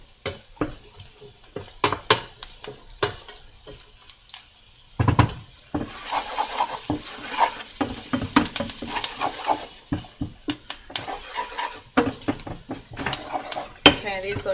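Mushrooms are stirred in a frying pan for creamy mushroom soup, with sharp utensil clacks and scrapes against the pan over a soft sizzle, coming in irregular bursts while a person talks.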